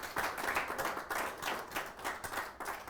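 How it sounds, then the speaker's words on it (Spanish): A church congregation applauds during a Spanish-language sermon, a dense, steady burst of many hands clapping at moderate distance for a few seconds with no talk over it. "den un aplauso a Yeshua HaMashiach."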